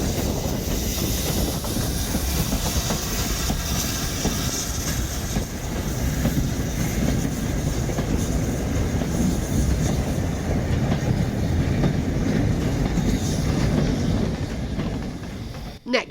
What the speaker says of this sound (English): the southbound service is just the 9F with a tanker set